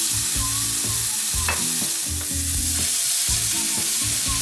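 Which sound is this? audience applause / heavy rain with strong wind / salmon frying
salmon frying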